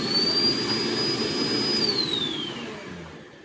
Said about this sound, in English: so leave the vacuum cleaner there